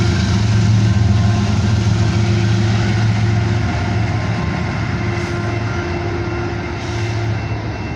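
A freight train's rear DPU diesel locomotive labors hard while pushing, a loud continuous low engine drone with rail rumble, steady across the whole stretch and slightly easing toward the end.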